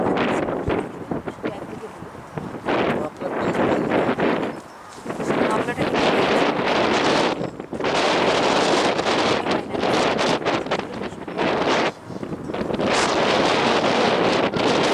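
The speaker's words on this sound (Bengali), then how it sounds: "বেশ মেঘলা ওয়েদার প্রচণ্ড জোরে হাওয়া দিচ্ছে" Strong wind on a cloudy day in Bergen, Norway, roaring across the microphone in loud buffeting gusts with short lulls between them, and a voice speaking faintly underneath.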